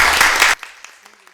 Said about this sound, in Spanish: Les agradecería a todos que les regalaran un fuerte aplauso a Andrea.